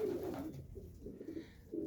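Several pigeons coo in soft, rolling phrases from a loft of mostly one breed, held close and steady through the short stretch with no talk.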